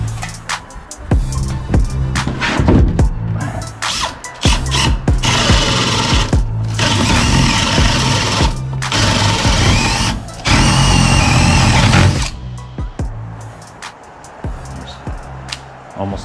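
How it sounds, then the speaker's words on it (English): A cordless power drill bores holes through a wooden board in bursts of loud whirring and grinding, stopping and restarting several times at close range with short pauses between holes. "So I'm gonna drill those holes now."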